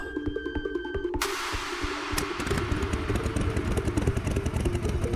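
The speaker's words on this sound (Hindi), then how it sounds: "देविका ने अपनी बाइक पार्क क" A motorcycle engine throbs and clatters close by in a dramatized scene, rumbling steadily after a sharp onset as the bike pulls in and parks, with no voices.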